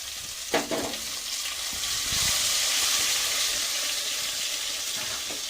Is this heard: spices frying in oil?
yes